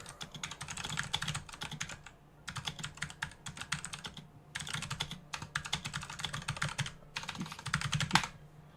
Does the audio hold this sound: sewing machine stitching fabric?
no